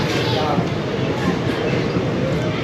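A moving train gives a steady, loud rumble with a dense rattling wash, heard from on board, continuous and even throughout.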